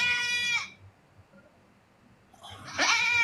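A person imitates a goat bleating, giving two loud, nasal, wavering bleats separated by a quieter pause.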